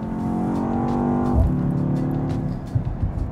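A BMW X2 M35i xDrive engine heard from inside the cabin while accelerating on a Portuguese motorway, a steady, sporty drone that briefly dips partway through before continuing, loud and with no talking.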